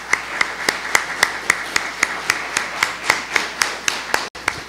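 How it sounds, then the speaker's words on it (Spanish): At a Colombian Hispanidad conference, a small group claps in a slow, regular rhythm, about a dozen distinct claps evenly spaced and fairly close, with a brief dropout near the end. "Demos un aplauso a nuestros primeros conferencistas."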